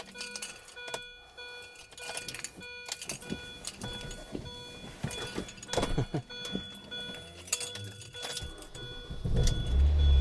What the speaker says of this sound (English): you just saw how easily this started a car from complete dead